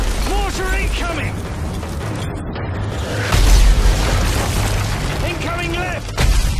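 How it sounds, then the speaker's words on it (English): Incoming mortar rounds land in a Modern Warfare 3 video game cutscene, giving deep booming blasts and mechanical rattling under urgent shouting voices and dense battle noise. "Mortar incoming!"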